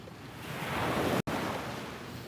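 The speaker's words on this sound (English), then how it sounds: "you can hear the waves" Ocean waves break on a beach, making a steady, broad roar of surf. The sound swells toward the middle and is broken only by a brief dropout, with no talking.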